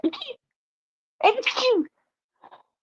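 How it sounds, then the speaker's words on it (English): A short sharp burst, then a louder, broader explosive sneeze about a second later, followed by a faint brief sound; close and sudden against silence. "that sneeze almost took me out"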